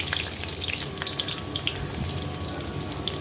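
Onion frying in sesame oil with fenugreek for an eggplant thokku, giving a constant close sizzle with crackling pops as the pan is stirred.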